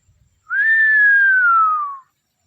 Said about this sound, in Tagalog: Sipol.